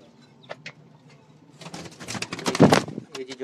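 Crossbred teddy pigeons coo in a loft, low murmuring calls at first, then a louder burst of rustling and fluttering near the end.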